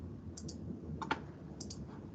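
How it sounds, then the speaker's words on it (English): A computer mouse gives a few faint, sharp clicks in small clusters against quiet room hiss during a seminar. "Lots of clicking."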